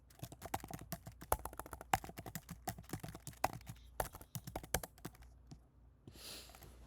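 Typing on a computer keyboard while coding, with a quick run of crisp, close key clicks and taps, including presses of the Option and Enter keys, fairly quiet overall, trailing into a soft rustle at the end.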